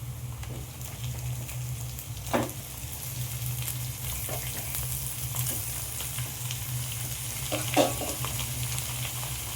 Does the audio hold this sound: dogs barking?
no